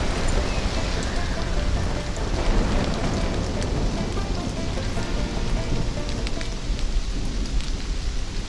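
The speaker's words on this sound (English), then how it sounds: "The thunderstorm needs to go away." Steady heavy rain pours on surfaces in a thunderstorm in the game Stranded: Alien Dawn, a dense continuous hiss with low rumbling thunder beneath, loud and unbroken throughout.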